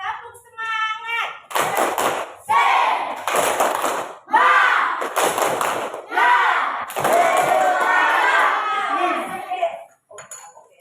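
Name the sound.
class of students doing a rhythmic spirit clap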